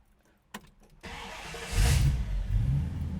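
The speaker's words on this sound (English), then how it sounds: "That modern Hemi just starts right up" A modern Hemi engine swapped into a 1971 Dodge Challenger cranks with a click and brief starter whir, then fires and settles into a deep, steady close-up idle rumble after a quick rev.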